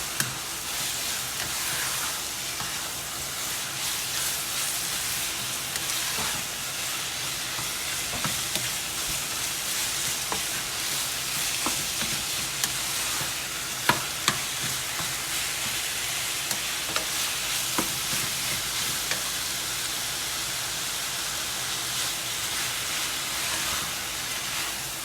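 Chicken stock cube and spices combined in a hot pan for Guyanese chicken patty filling, a continuous crackling sizzle with scattered stirring clicks and scrapes, no talking.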